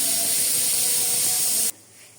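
A kitchen pressure cooker lets off its whistle: a loud, steady, high-pitched hiss with a shrill tonal edge that holds for under two seconds, then stops abruptly, leaving quiet room tone.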